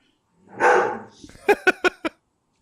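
Dogs barking nearby: one long gruff bark or howl, then four short sharp barks in quick succession, loud and close with no voices.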